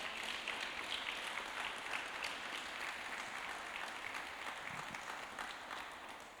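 A Sunday church congregation applauds together in a dense, steady wash of clapping that fills the whole stretch and fades slightly at the end.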